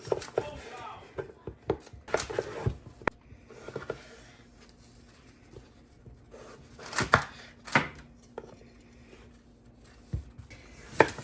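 A knife chops unpeeled potatoes into wedges on a cutting board in a home kitchen, giving irregular close thuds and knocks with brief pauses, while a person talks quietly in the background.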